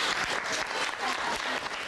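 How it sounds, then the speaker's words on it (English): Audience applause fills a community evening gathering on a housing estate, dense steady clapping from a crowd, fairly close and even throughout with no pauses. "How about a little bit of applause?"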